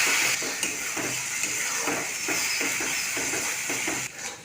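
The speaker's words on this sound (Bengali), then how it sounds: "লবণ, হলুদ গুঁড়ো, লঙ্কার গুঁড়ো, সমস্ত মশলাটা নাড়াচাড়া করে কষিয়ে নেব।" Ginger, garlic, coriander and cumin paste with salt, turmeric and chili powder fries in hot oil in a pan, a continuous close hiss with rhythmic scraping from stirring strokes throughout.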